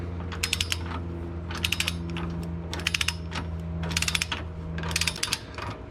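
A ratchet clicks in quick bursts of rapid pawl ticks as it torques down bolts on a trailer hitch for a fourth-generation Nissan Pathfinder, with several separate runs over a steady low hum, close by.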